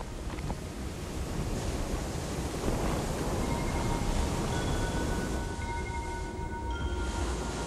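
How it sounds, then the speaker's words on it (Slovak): Rough surf and wind roar where molten lava, after travelling tens of kilometres, flows into 20-degree seawater. The wash of waves is loud and constant, with brief faint tonal whistles and no voices. "Žeravá láva sa po prekonaní desiatok kilometrov vlieva do mora, ktoré má teplotu 20 stupňov."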